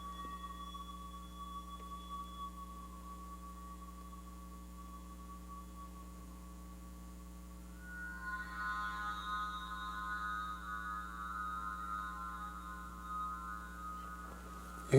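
Audrey II feedback synthesizer run through reverb: sustained tonal drones hum steadily, then around the midpoint a brighter, swelling feedback tone blooms and drifts slowly in pitch, moderately loud and alone without voices.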